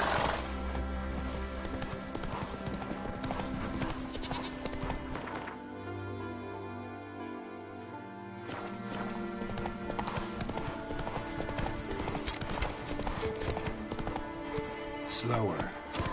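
A horse gallops with fast, even hoofbeats in The Witcher 3: Wild Hunt video game, the clip-clop pausing briefly midway before resuming, with a short whinny and game sounds around it.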